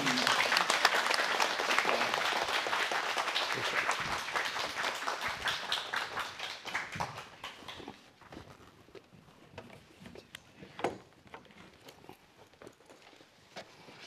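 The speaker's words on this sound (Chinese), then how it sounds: "咱用最热烈诶掌声来，请伊欢迎伊" An audience at a lecture on physical, mental and spiritual health gives warm applause, loud dense clapping that thins and fades into scattered claps, with a voice speaking near the end.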